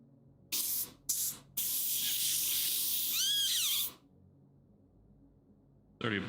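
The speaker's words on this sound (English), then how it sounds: "Already a blockage in my airbrush." An airbrush sprays paint in short hissing bursts, then one sustained spray of about two and a half seconds, with a wavering tone hinting at a partial blockage, close and fairly quiet.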